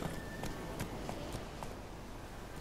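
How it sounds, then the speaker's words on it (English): A horse's hooves clip-clop in The Witcher 3 as it moves along, with a handful of distinct, evenly spaced hoof strikes near the start that blur into a softer, steady background. "Come on, horse, move."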